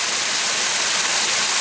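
Steady water splashing from a pump pipe into a tilapia pond, a continuous broadband rush close by with no pauses or voices.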